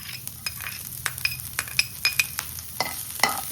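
Garlic and green chillies frying in oil in a pan, a dense steady sizzle broken by repeated scraping stirs and light metallic clinks of a spatula, close up with no talking.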